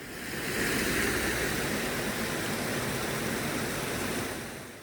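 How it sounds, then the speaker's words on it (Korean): Heavy rain has swollen the water at Jangtaesan's metasequoia forest recreation area, which rushes loudly in a continuous, even roar with no voices over it. "요새 비가 많이 와서 물소리가 아주 크게 들립니다."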